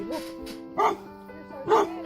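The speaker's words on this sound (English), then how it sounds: "That's his dog." A dog gives a few short barks and yips spaced about a second apart, fairly close, over a faint hum of other sound.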